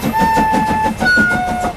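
A train crosses the Glenfinnan viaduct in Scotland, its loud sustained whistle tones sounding over the rumbling, rhythmic clatter of the rail cars close by.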